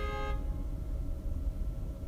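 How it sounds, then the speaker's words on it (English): A car horn gives one short honk at the start, a brief harmonic blare that cuts off quickly and leaves a low rumble of road and traffic noise. "That guy honked his horn."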